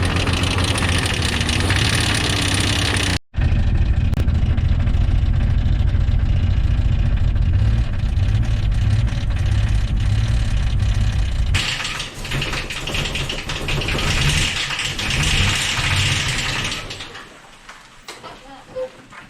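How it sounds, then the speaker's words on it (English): An engine in a cheap old Jeep runs loudly, a rough, steady rumble with a brief cut near three seconds, then a rattling racket that fades toward the end, with a voice talking over it. "There's a delightfully fine racket for the engine to make."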